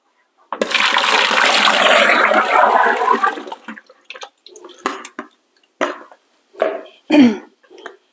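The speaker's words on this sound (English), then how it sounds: "I just grabbed my 5-gallon pail, so now I can empty my bowl. It is going to splatter a bit." Tomato waste is emptied from a bowl into a 5-gallon pail. A loud, sustained wet pour splashes for about three seconds, then gives way to scattered drips and small splatters, with no talk.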